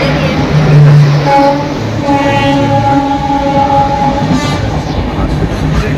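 A train rumbles along loudly with steady rolling noise and a sustained tonal whine, and a voice briefly speaks over it near the start.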